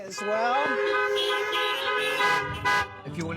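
Car horns honking as an amen during a drive-in church service, with several sustained horn blasts overlapping at once before they break off, and a voice talking over the end.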